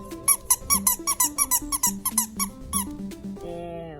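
Fidget toy squeaking in a quick run of about fifteen sharp, high chirps in rapid rhythm, then a short fading tone, close and clear with no talk.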